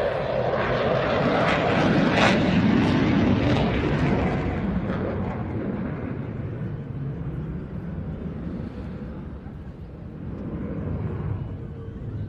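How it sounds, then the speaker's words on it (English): A jet aircraft roars loudly at an air show during a max rate turn, its engine noise swelling then slowly fading and rising again as it sweeps past at a distance. "Now watch as he drops the aircraft back down into what's called a max rate turn, half horizontal with a knife edge hold."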